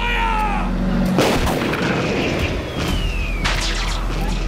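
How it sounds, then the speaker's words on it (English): Heavy gunfire in a Doctor Who trailer: loud, booming shots with a sharp blast near the start and another burst later, set over a dense, roaring dramatic soundscape. "Fire at will. Fire!"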